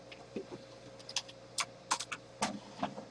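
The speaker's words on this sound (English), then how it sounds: "I'm just typing with Cookie" Someone types on a computer keyboard during a match, producing a steady scatter of soft, close clicks over a low background hum with no talking.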